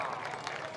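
Brief burst of applause from a crowd at a village mela as a prize position is announced, a dense patter of clapping mixed with crowd noise.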